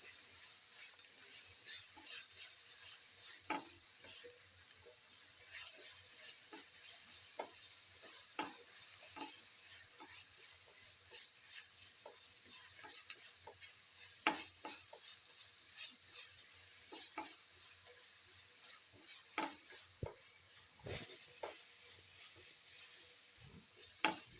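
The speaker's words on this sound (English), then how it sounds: "Thoroughly saute and mix." Chicken sautés with ginger garlic paste and fenugreek leaves in a pan. A steady high sizzle runs throughout, broken by scattered scraping and tapping as a utensil stirs and mixes the contents.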